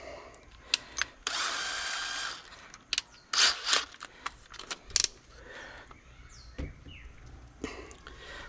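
Several short bursts of a power drill whirring, with one longer run and brief stops, plus clicks and handling noises between.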